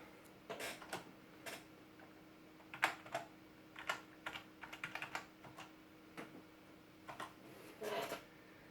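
A password is tapped out on a ZX Spectrum keyboard, a quiet, irregular run of close plastic key clicks in short bursts with small pauses, over a faint steady hum.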